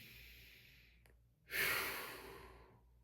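One deep breath during a self-massage routine, a soft inhale fading into a louder, airy exhale that trails off, close and alone.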